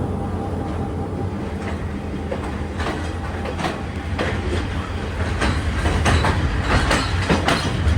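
Locomotive-hauled train on the Badulla to Colombo line in Sri Lanka, steady loud rumble from inside with rhythmic clickety-clack of wheels over rail joints throughout.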